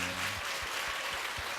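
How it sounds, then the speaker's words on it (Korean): An audience at a church worship service for the infant and kindergarten department claps for children in a brief, dense burst of steady applause. "이런 아이들한테 박수를 좀 쳐주세요."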